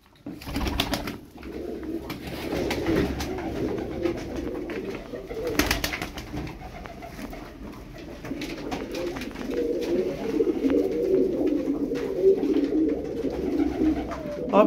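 A flock of around eleven pigeons coos steadily, layered throaty calls repeating close by through the whole stretch. Scattered clicks and rustles of movement come in around them.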